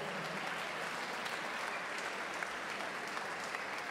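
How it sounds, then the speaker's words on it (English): Audience applause after the final of a junior squash championship, a steady, fairly distant wash of many hands clapping that continues evenly throughout without any speech. "can we have another round of applause for both these players?"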